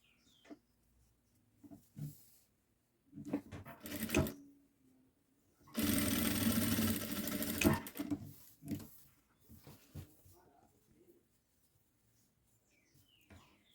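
A sewing machine topstitches a seam on a boy's children's outfit in short, fairly quiet bursts, with one longer steady run in the middle. Faint handling noises fall between the runs.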